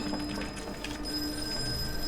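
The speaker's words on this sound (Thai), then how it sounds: "โทรศัพท์ดัง รับดิ" An old-style telephone bell rings with a fast, continuous metallic rattle in the Forkroad horror video game, steady and fairly close against a low ambient hum.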